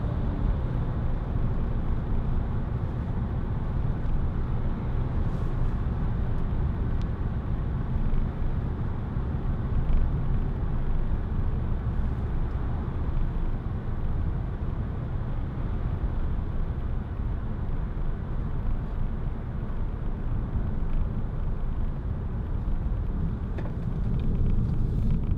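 Peugeot 3008 1.6 HDi FAP Allure diesel SUV cruising on the road, heard from inside as a steady low rumble of engine and tyre noise, constant and unbroken, without talk.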